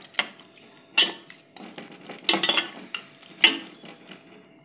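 Hotel-style sambar being mixed in a metal pot, a ladle clinking and scraping against the sides in a few uneven bursts, close and without talk.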